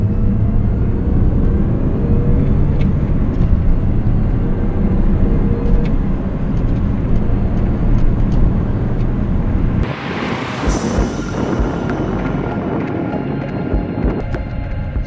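A Mini Cooper S R53 is driven with a steady, loud interior drone of engine and road noise, then a sudden shift into a quieter rushing tone partway through, with no talking.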